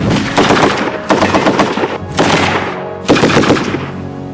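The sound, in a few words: Bren light machine gun firing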